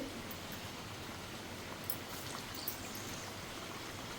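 Semolina nuggets fry in hot oil, a soft, steady bubbling sizzle that stays fairly quiet and continuous with no voices.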